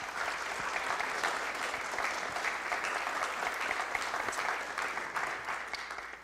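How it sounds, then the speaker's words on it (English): Sustained applause from an audience at a city council meeting, steady and dense clapping throughout with no pauses, fairly close and filling the room. "Give them a round of applause."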